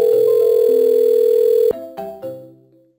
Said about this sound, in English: So here we see a phone call coming in.